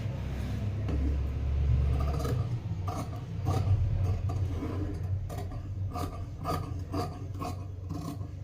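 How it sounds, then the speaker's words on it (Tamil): Scissors slice through fabric for a size 45 blouse, a steady rasping cut with repeated short snips near and fairly loud, no voice over it. "கட் பண்ணுறேன் பாருங்கள்."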